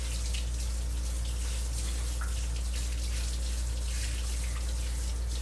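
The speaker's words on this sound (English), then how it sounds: "And wash my hands." Running tap water pours steadily at a kitchen sink while hands are washed during red velvet cheesecake preparation, a constant close splashing hiss with no talking.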